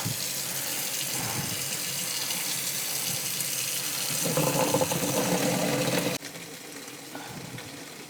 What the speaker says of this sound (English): you're going to wash the corn with cold water